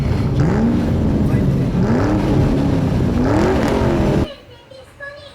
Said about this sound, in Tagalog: subukan natin ngayon yung ating bagong rides sa autostrada, sa highway